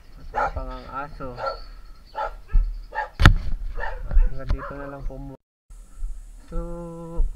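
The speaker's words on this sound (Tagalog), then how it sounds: "may aso, matapang ang aso" A dog barks several times nearby, mixed in with people talking, and a brief high whine near the end.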